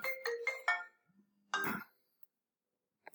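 A phone ringtone plays during a call, a short bright melodic burst followed by a low steady tone and another loud ringing burst, then silence with a faint chirp at the end.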